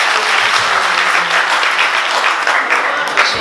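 An audience at a political rally in Pemba breaks into sustained, dense applause, loud and continuous throughout with a crowd's clapping filling the space.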